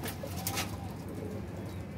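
Flying pigeons in a loft coo softly, low throaty calls close by against a steady background noise.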